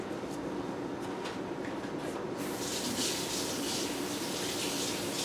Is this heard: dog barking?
no